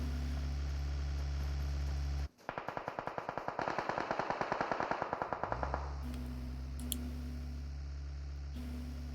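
Rapid automatic gunfire in the mobile battle royale game PUBG Mobile rattles off as a long, fast, evenly spaced burst of shots over a low steady drone, with no talk.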